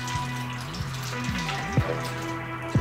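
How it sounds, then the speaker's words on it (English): Juice from a can of string beans is poured off, giving soft close trickling and splashing liquid with a few small clunks, alone without talk. "Just pouring the juices out right now."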